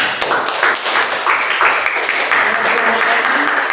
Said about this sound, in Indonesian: kita tepuk tangan buat Eman.